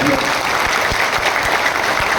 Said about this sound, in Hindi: बेचारे कार्यकर्ता ताली बजाकर ये सबूत भी दे रहे हैं कि साहब हमें ताली बजाना आती है।